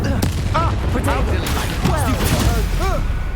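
Blasts from the Expulso explosion spell in the video game Hogwarts Legacy, several booming impacts amid loud continuous combat effects, with a character's voice over them.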